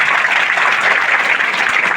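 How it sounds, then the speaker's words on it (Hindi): Schoolchildren applaud loudly during an NDRF school safety program in Rudraprayag. A dense, even crackle of many hands clapping fills the space for the whole two seconds. "एक बार जोरदार तालियां आप स्कूल के लिए"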